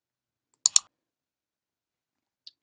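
A computer mouse clicks while a folder is opened on screen: a quick double click, then a single faint click about two seconds later, in otherwise silent surroundings.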